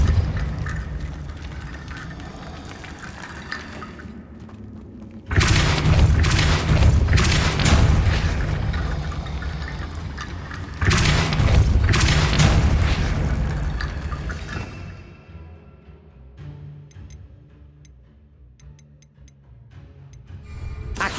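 Booming magical blasts from a Depulso force-push spell in Hogwarts Legacy, two loud broadband bursts several seconds apart, each trailing off with rumbling debris and clatter over a low game ambience.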